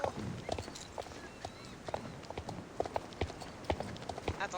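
A pony's hooves clip-clop at a brisk gait in the online game Star Stable Online, crisp and evenly rhythmic over soft ambient background, with no voices.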